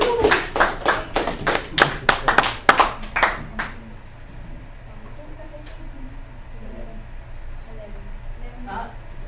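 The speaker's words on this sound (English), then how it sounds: "Beautiful. Round of applause." A small group claps in a round of applause for a classroom answer, a burst of sharp, close handclaps for about four seconds that then fades out into quiet room tone and faint voices.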